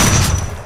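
Burst of gunfire in a mobile shooter video game right after the fire button is pressed, a dense, loud rattle of shots filling the short moment and trailing off slightly toward the end.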